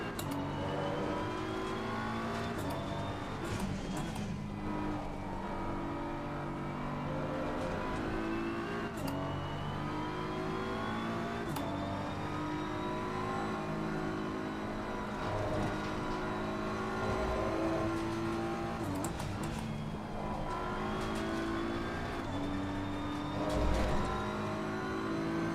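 Race car engine in Assetto Corsa Competizione during an endurance race at Watkins Glen, a steady droning rev that rises and falls through gear shifts, with sharp shift blips and no talk.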